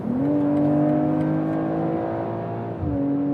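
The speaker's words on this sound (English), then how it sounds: "The only thing is we can hear the great exhaust." BMW M340i accelerating in sport mode on a German Autobahn, a loud, steady exhaust drone with a rising engine note that dips briefly at a gear change before settling again, heard from inside the car.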